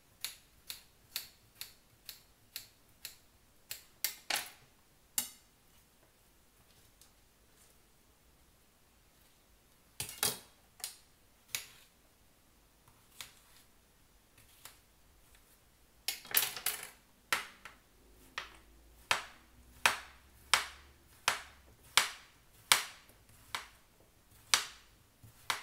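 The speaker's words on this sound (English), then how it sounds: "get my big knife. Get some cucumber cut up. Alright, into some small pieces." A big knife chopping cucumber into small pieces on a board, with sharp, evenly spaced taps in two long rhythmic runs separated by a quiet stretch and a few stray knocks, close but fairly soft.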